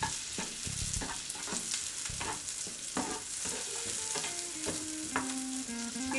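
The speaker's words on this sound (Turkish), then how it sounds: "Biberlerimiz iyice pişinceye dek yağımızı da soteleyelim." Steady sizzling of chopped green peppers frying in butter in a pan for menemen, with intermittent stirring clatter and scraping, close and continuous, no talking.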